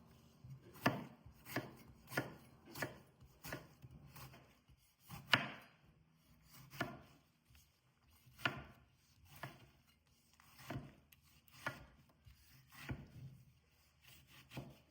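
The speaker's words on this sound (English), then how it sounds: "Now, I'm chopping some fresh tomatoes." A knife chops repeatedly on a board in uneven bursts, crisp thuds spaced about a second apart, close and clear with no talking.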